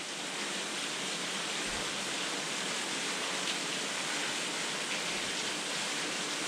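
A small waterfall tumbles just off a hiking trail on the Devils Rock Trail, a steady broadband rushing hiss of falling water, continuous and fairly close, with no voices.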